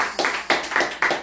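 Applause at a church worship service, a few bursts of clapping swelling and fading in quick succession, fairly close and loud with no voices over it.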